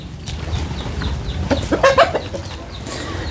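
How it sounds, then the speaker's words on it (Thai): Chickens clucking on a farm, several birds making short close clucks and a brief rising squawk, moderately loud over low background noise, with no talking. "นี่ไก่"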